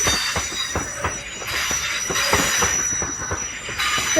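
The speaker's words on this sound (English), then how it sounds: "now departing is 35104 and one of our classmates working the 12." Locomotive 35104 pulls out of Crewe station on the West Coast Main Line, loud and close, with continuous rail noise, rhythmic wheel clatter and high squealing wheels.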